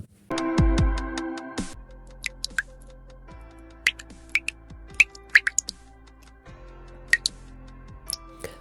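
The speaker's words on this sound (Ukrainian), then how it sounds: "Так крапають бурульки." Scattered water drops from melting icicles fall irregularly, each a sharp, bright plink against a quiet background, some landing in quick pairs.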